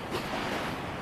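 Sea waves wash along a rocky, white-sand shore at Paracale in Camarines Norte, a brief, steady broadband surf hiss with wind buffeting the microphone.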